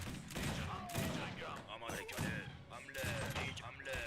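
Ranged gunfire from long-range sniper units in the strategy game Age of Empires III: Wars of Liberty, rapid overlapping volleys and thuds under a game soundtrack at low volume, no talk.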